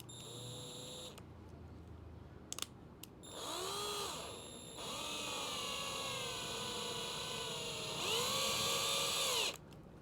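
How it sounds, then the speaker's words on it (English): A power driver whirs in several sustained bursts as it tightens screws with self-locking nuts on the luggage rack of a HOVSCO HOVGTRS eBike during assembly, the motor pitch bending at each start and stop, close and fairly loud. "And I'm going to tighten these screws up right here."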